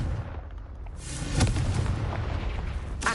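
Confringo blasting spell going off in Hogwarts Legacy, a loud booming explosion with a rumbling tail, followed by another sharp burst near the end.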